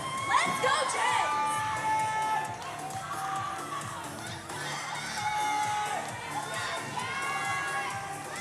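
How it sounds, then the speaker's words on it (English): Loud crowd cheering and whooping at a powerlifting meet, backing a woman on her final-round deadlift pull. The roar is dense and sustained, with shrill individual shouts rising above it throughout. "The crowd is going crazy for Jen right now"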